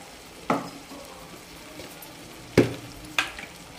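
Cashew and garam masala paste fries in a pan for goat brain masala, a soft low sizzle broken by three sharp clicks of a utensil against the pan.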